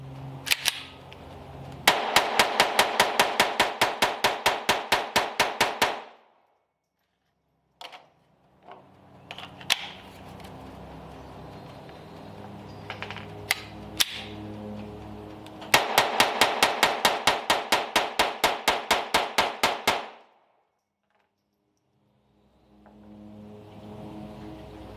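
A Sig Sauer P322 fires Federal Auto Match lead-nose rounds in two long rapid strings of sharp, evenly spaced cracks, separated by pauses with faint handling clicks and a few isolated shots.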